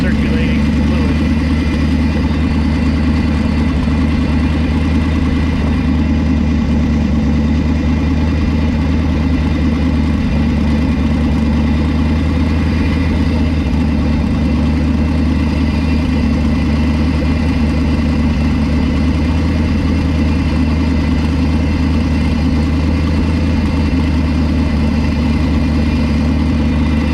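A car engine idles steadily during a teardown to find a fault, giving a continuous low drone with an even, unchanging hum for the whole stretch.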